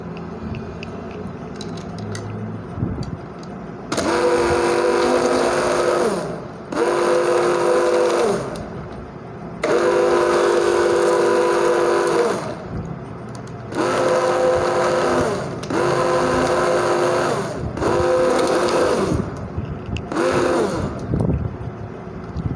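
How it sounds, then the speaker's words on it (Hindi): An electric blender crushes ice cubes for a smoothie in loud motor bursts, about six pulses of a few seconds each with brief pauses between, whirring and grinding close up. "अब हम इसको ब्लेंडर की मदद से इसको ब्लेंड कर लेंगे"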